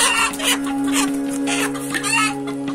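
Bantam chickens cluck in their coop, nearby and fairly loud, with repeated short bursts of agitated clucking over a steady low hum.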